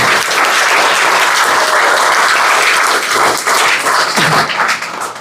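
Steady, loud applause from a crowd cheering a student topper at a CBSE Class 10 results announcement, continuous dense clapping for about five seconds that tapers slightly at the end.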